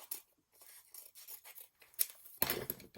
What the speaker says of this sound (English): So I'm going to also trim that off.